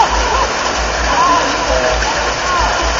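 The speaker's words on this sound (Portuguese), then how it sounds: "nossa, chuva caiu depois" Steady, dense rain falls outdoors, a constant broadband hiss and patter with no breaks, loud and close, with faint traces of voices buried beneath it.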